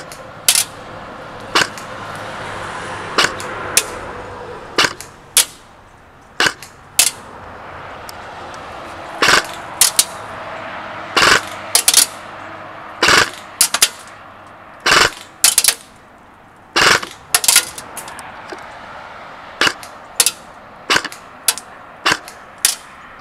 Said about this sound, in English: you can clearly see the BBs hitting the target at 100 feet